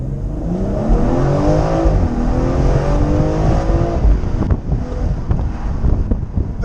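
A 2019 BMW M240xi convertible accelerates hard, its engine note climbing steadily through the gears under heavy, continuous wind rush, loud and close with no talk.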